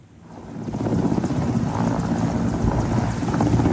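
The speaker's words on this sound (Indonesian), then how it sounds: "helikopter Angkatan Laut Meksiko jatuh sesaat setelah lepas landas" A Mexican Navy military helicopter at a naval base in Sinaloa, Mexico, lifts off with a rotor and engine roar that swells quickly and then holds loud and steady, with no distinct impact heard.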